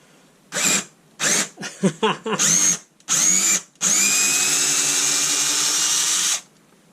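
A Makita ratchet converted to lithium-ion power runs as an angled screwdriver with a high motor whine, first in several short trigger bursts, then in one long sustained run, loud and close.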